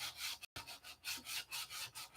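Hand sanding and blocking of a patched area on a car body, a steady rhythmic back-and-forth rasp close by, about eight even strokes with a brief gap early on.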